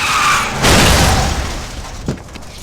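A video game car crash effect: a loud boom and crunching impact swells, then decays into rumbling debris, with a short sharp clatter near the end.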